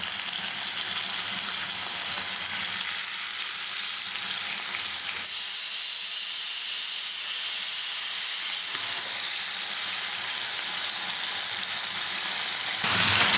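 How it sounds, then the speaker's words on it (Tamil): Sardines sizzle and spit steadily in hot oil, a continuous crackling hiss with a louder burst at the end. "மீனை பொரிச்சுக்கலாம்."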